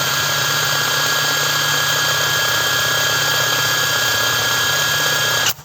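DRIVAK EW002 cordless impact wrench rated at 600 Nm, run at its first speed of about 1950 rpm: a loud, steady motor whine that holds for over five seconds, then cuts off and winds down.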